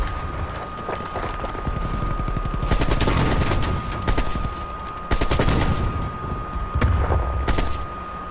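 Gunfire from the video game Call of Duty Black Ops Cold War in a capture-the-flag multiplayer match: loud rapid automatic bursts and sustained fusillades that dominate the mix and repeat throughout, with no talking.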